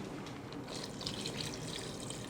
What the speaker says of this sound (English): So let's add more water.